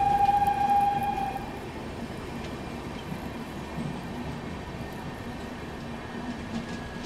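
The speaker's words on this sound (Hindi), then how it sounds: "अभी शान ए भोपाल एक्सप्रेस भी यहाँ पर ओवरटेक," Indian Railways Shan-e-Bhopal Express being overtaken by a passing Rajdhani Express, heard as a steady, fairly loud train rumble with rail clatter and a brief whistle-like tone early on.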